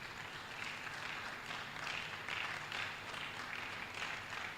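An audience at a law school book presentation claps in a steady, faint patter of applause for a university Vice Chancellor, with no voices over it.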